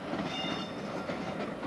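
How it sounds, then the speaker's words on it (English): A long car transporter train carrying about 200 cars rolls past in a steady, dense rumble and rattle of wagons, continuous and fairly close throughout with no voices. "It's a train which goes through, it carries 200 cars."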